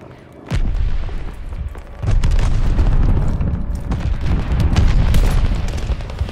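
A glide bomb detonates in the game Call of Duty: Vanguard, a loud booming blast that starts abruptly and then rolls on as a sustained rumble of further impacts and debris, with no talking.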